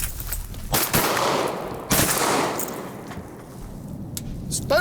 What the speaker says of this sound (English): Let's shoot them spoonies.